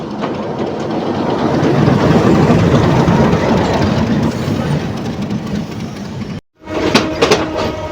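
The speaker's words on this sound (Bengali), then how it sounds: "আমাদের এই লোকাল ট্রেনটা কিন্তু চলে যাচ্ছে এটা কিন্তু পার্বতীপুর যাবে" A local train near Rangpur railway station, bound for Parbatipur, rumbles past close by with a loud, steady roar and rattle of wagons, followed by a brief cutout and then sharper clattering clicks.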